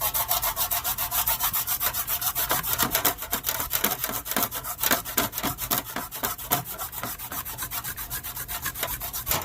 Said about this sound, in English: now I'm going to spend a little time with the scuffing pad and see if I can't kind of scuff out some of these marks